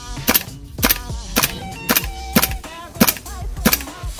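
King Arms TWS-9 airsoft gun cycling on Armor Works gas drives, eight sharp evenly spaced close clacks of the bolt with a ringing metallic tail, no BBs leaving, with some brief voice noise between shots.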